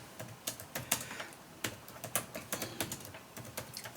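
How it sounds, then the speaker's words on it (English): A laptop keyboard clacks with quick, irregular keystrokes, close and fairly quiet, with no voices over it. "I need to type that in."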